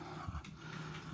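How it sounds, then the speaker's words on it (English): Dogs growl low and rough at close range in a brief indoor moment, with one throaty snarl near the middle. "Sorry for my dogs."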